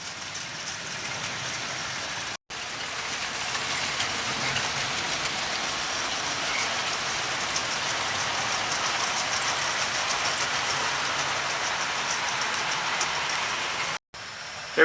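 A steady, loud rumble and hiss of a Southern Region Q1 class railway engine fills the clip, broken by two brief silent gaps.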